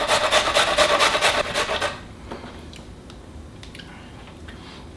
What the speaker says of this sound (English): let's slaw some carrots on the big end of your grater